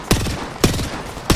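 Gunfire from the battle royale game Apex Legends, with three heavy single shots spaced about half a second apart, each followed by a short rumbling tail, and no talking.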